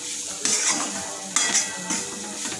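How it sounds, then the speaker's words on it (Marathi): Prawns tossed and stir-fried in a pan, a soft sizzle broken by three sharp metallic scrapes and clanks of a spatula on the pan, nearby and without speech. "आपण झिंगे मस्त परतून घेतले"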